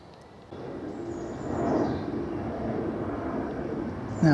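A jet aircraft passes overhead above woodland near Markyate, its broad roar swelling in after a quiet start and holding steady for several seconds.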